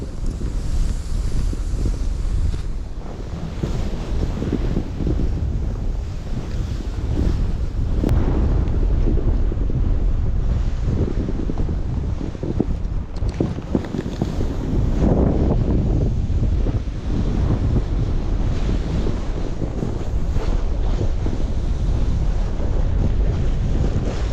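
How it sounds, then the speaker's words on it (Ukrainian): Strong wind roars and buffets a microphone for the whole stretch on a mountain ridge at Bukovel during snow kiting, with gusty surges and low rumble but no voices. "Хоча вітер сильний,"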